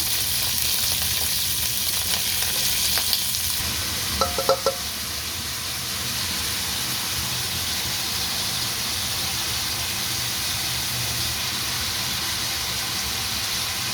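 Chopped ginger and garlic sizzle in hot oil for a vegetable fried rice, a steady frying hiss throughout with a couple of brief utensil clicks early on.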